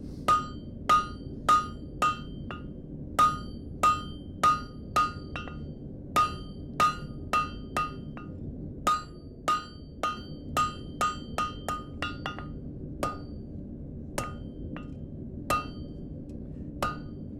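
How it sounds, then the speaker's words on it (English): A heavy blacksmith's hammer rings on metal in a steady series of sharp, bright strikes, some quick bursts mixed with pauses, clear and close over a low background hum. "Now this is a pretty big hammer."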